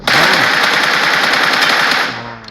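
Rapid automatic gunfire in the video game PUBG rattles loud and continuous in a fast burst, then tails off near the end.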